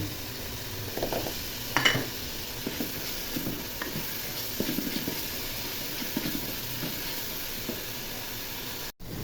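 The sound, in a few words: garlic frying in a pan for meat curry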